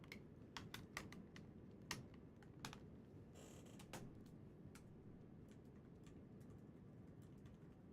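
Keystrokes clack on a computer keyboard in irregular bursts, some sharp taps standing out over a steady low hum, with no one speaking.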